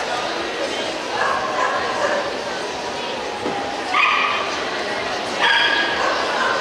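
A Labrador retriever at a dog show yips and whimpers in short bursts, with dogs barking a few times over steady crowd noise and voices talking nearby.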